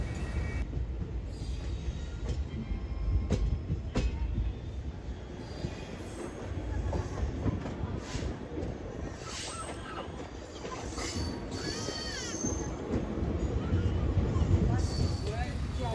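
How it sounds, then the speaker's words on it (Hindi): Begumpura Express 12237 rolls slowly into Moradabad Junction railway station, with heavy rumbling carriages and high, drawn-out wheel squeals growing louder toward the end, while voices carry underneath. "धीरे धीरे ट्रेन का मुरादाबाद जंक्शन रेलवे स्टेशन पर अराइवल हो रहा है।"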